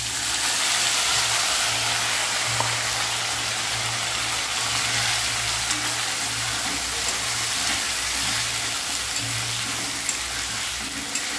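Potatoes frying with chilli, cumin and ginger in a wok for aloo dum, a loud continuous sizzle and crackle close by with a low steady hum underneath.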